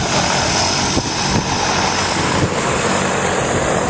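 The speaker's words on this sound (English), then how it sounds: "we have a hell of a lot of noise from this plane that is just about ready to take off with a load of skydivers" A skydiving plane's propeller engine drones loud and close while the aircraft waits to take off, a steady roar with faint throbbing and no speech.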